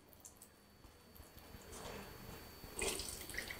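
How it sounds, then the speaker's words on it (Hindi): Water trickles and squishes out as a cloth bundle of salted chopped vegetables for veg momos is pressed by hand, soft and faint at first, then a brief wetter splash near the end. "आप देख सकते हो इसका पानी बहुत ही आसानी से निकल रहा है।"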